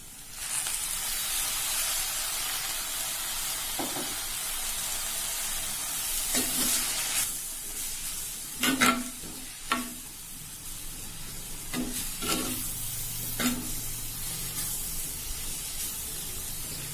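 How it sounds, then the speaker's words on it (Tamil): Sizzling hiss of a frying coconut mixture in a pan as water from rinsing the grinder jar is poured in, a steady spitting fry with a few stirring scrapes and clinks of the utensil, no talk. "ஜார் அலசின தண்ணி கொஞ்சம் விடுறேன்."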